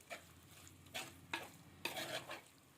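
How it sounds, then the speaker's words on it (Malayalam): Fried prawns being stirred into masala in a pan for a Kerala prawn roast: a few quiet, distinct scraping stirs over a soft background sizzle, with no voices. "ഫ്രൈ ചെയ്ത് വെച്ചിരിക്കുന്ന കൊഞ്ച് ഇതിലേക്ക് ഇട്ട് കൊടുക്കുക. കൊഞ്ചിട്ടതിന് ശേഷം നമ്മൾ മസാലയുമായിട്ട് കൂട്ടി യോജിപ്പിക്കുക."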